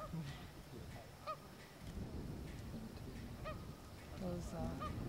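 Several Canada geese honking in short bursts, moderately close, over a low background rumble, in Yellowstone.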